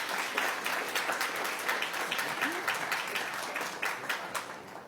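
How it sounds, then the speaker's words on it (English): Attendees at a school board meeting clap for honored students, a moderate, even round of applause in a large room, heard alone without talk. "Let's give them all a round of applause."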